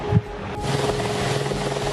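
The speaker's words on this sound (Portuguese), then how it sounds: "O som do helicóptero indica que mais uma vítima foi encontrada." A helicopter's rotor drone hums steadily overhead with a rhythmic pulsing thump, moderately loud and continuous, over a mountainside firefighter rescue site.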